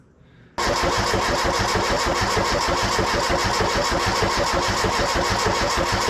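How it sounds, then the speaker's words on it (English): A turbocharged Nissan KA24E engine cranks briefly after a quiet moment, then fires and settles into a loud, steady, close-up running roar with a rapid pulsing beat. "we got to crank the engine over so we can get some oil up through to the pressure line"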